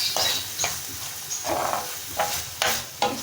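Sandwich filling mixed with tomato ketchup in a bowl, several rhythmic spoon strokes scraping and tapping close by, each a short burst, with a faint sizzling hiss underneath and no talking.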